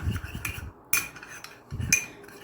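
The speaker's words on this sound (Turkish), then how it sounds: "bu kürümüzü tamamen homojen bir kıvam alasaya kadar arkadaşlar güzel bir şekilde karıştırıyoruz" A utensil stirs a garlic hair mask mixture in a bowl, producing a few close, sharp clinks and scrapes against the bowl between soft low handling noises.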